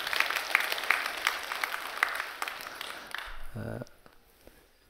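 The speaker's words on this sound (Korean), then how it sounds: "여러분 박수 한번 해주셔요." A church congregation claps during a Korean worship service, a moderately close patter of applause that fades out after about three seconds as a brief voice sounds and the room settles into quiet.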